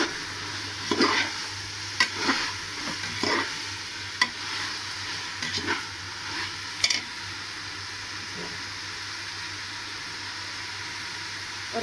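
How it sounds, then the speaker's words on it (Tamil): Onions and green chillies for veg pulao fry in a pan under repeated stirring, a low steady sizzle broken by sharp spoon scrapes and clacks against the pan, clustered early and then sparser. "வெங்காயம் வந்து நல்லா வதங்கணும்"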